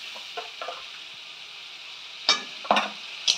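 Spice paste stir-fried in a pan for an egg and potato fritter curry, a soft continuous sizzle broken by a few sharp spatula scrapes and knocks near the end, with no voices.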